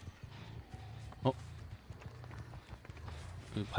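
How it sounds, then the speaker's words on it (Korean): Running footsteps in the horror game Dead by Daylight patter in quick repeated bursts, with a couple of sharper louder thuds standing out over a faint background. "발소리 들렸던 것 같은데?"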